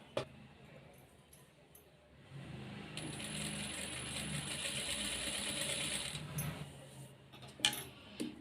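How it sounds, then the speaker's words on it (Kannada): A sewing machine runs steadily while stitching piping around a round neckline, a continuous close mechanical whirr that starts after a short pause and holds for several seconds, with clicks at either end. "ಪೈಪಿಂಗ್ ಸ್ಟಿಚ್ ಮಾಡೋವಾಗ ನಿಧಾನಕ್ಕೆ ಸ್ಟಿಚ್ ಮಾಡ್ಕೋಬೇಕು."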